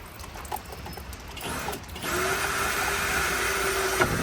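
A power drill whirs steadily at close range after a few seconds of scraping and handling, running continuously with a sustained motor tone.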